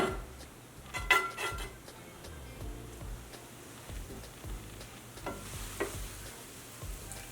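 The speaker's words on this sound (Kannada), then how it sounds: "ಲೋ ಫ್ಲೇಮ್ ಇಟ್ಕೊಳ್ಳೋಣ ಲೋ ಫ್ಲೇಮಲ್ಲಿ ಸ್ವಲ್ಪ ಬ್ರೆಡ್ಡು ಕ್ರಿಸ್ಪಿ ಆಗಬೇಕು" Bread spread with a tomato mixture and ghee toasts in a pan over a low flame, giving a faint, soft sizzle broken by a few light scraping clicks. No one speaks.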